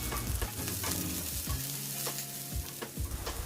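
Garlic and onions frying in a pan for pork adobo: a steady, close crackling sizzle with occasional stirring scrapes and clatter, no voices.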